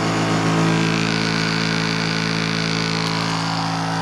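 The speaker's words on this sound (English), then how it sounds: "this motor is not able to operate at no load at all. It will cause overspeed" A series-wound DC motor spins unloaded and overspeeds, giving a loud, steady, high whine with a rough mechanical roar underneath. The sound is close and continuous throughout.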